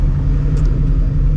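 Supercharged 2004 Ford Mustang GT driving, its engine a loud, steady low rumble heard from inside the car, with no talk over it.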